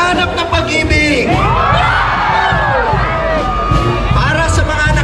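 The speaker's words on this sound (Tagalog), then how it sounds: "Parang mahina yung sigaw." A large crowd at a lively event shouts and cheers loudly and continuously, with overlapping yells and whoops and speech mixed into the roar throughout.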